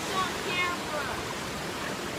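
A waterfall at Big Falls on a hiking trail gives a steady, diffuse rushing hiss throughout, even and constant with no distinct events.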